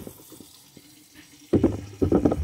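Tap water runs into a pot filled for boiling eggs. The kitchen is quiet at first, then a loud, close splashing flow starts about halfway through, pauses briefly and resumes.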